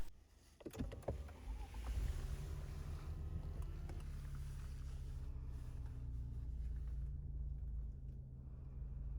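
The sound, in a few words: car engine starting and idling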